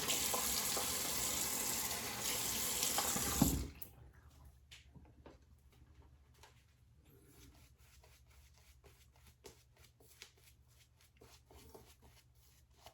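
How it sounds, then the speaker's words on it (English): Cold water runs from a tap into a sink in a loud, steady splash for about three and a half seconds, then shuts off, leaving only faint drips and small handling clicks. "A little bit of cold water real quick."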